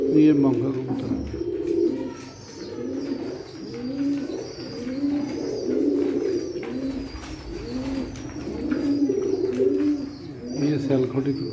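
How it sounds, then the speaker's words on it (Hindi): A pearl-marked Sialkoti pigeon gives a steady series of close, rolling coos, with light chirps from nearby birds and an occasional human voice. "ये सियालकोटी कबूतर है मोतियों वाला।"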